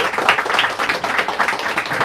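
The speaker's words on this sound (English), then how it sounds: "Let's give them a round of applause." Audience applause at an evening book event celebrating a graphic memoir, a steady dense patter of many hands clapping throughout, fairly close and sustained with no voices over it.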